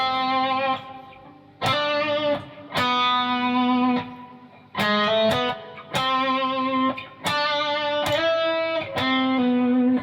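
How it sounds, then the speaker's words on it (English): Synth melody played through a slight distortion effect, a run of bright harmonic-rich notes in short phrases with brief gaps between them, loud and close with no talking. "One of my favourite sounds is this kind of slight distortion."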